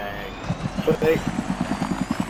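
A helicopter in Battlefield 3 gives off steady, rapid rotor thumps close by, a pulsing beat running the whole way through with a faint engine whine above it, while a player talks over it.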